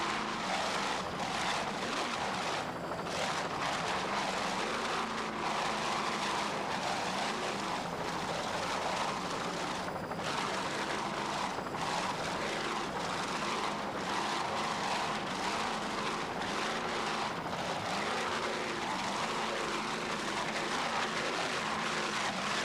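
Four 1,000 hp Cobra Power inboard engines drive a racing superboat through bumpy waters off Key West at a 1994 Grand Prix, a continuous loud, dense roar that holds steady throughout.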